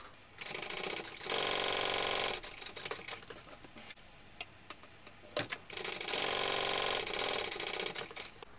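Sewing machine stitching the side seams of a Park Mini backpack, two long bursts of fast rhythmic mechanical whirring separated by a quieter pause with small clicks and fabric handling.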